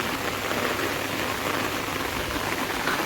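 Steady rain falls on a garden full of plants, a dense, even hiss of drops pattering on leaves and ground, continuous and fairly close with no voices.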